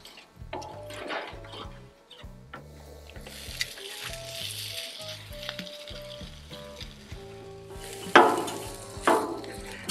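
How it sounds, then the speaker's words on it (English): Pulled pork sizzles steadily on a hot griddle as it warms, a continuous frying crackle with a couple of sharper bursts near the end, heard beneath background music. "I'm gonna start by putting some of the pulled pork right down on the actual griddle to start getting this warmed up."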